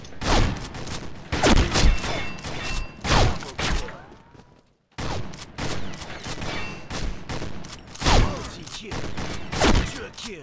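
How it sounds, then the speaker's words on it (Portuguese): Gunfire in the Combat Arms shooter game: repeated bursts of rapid shots in clusters with a brief silent gap midway, loud and close, with occasional talk underneath. "Nossa, matou o cara com um tiro."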